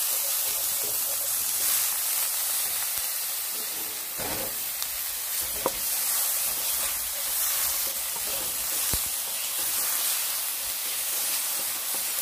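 Pork stir-frying with shrimp paste in a pan, a steady loud sizzle and hiss that runs throughout, with a few soft scrapes of stirring.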